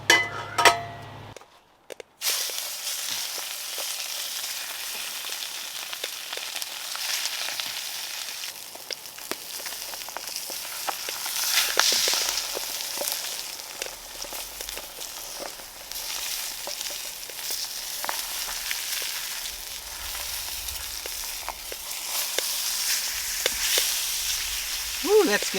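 Salmon searing in a very hot skillet over a Solo Stove campfire at Baker Lake, a steady close sizzle and crackle running throughout after a brief bump at the start.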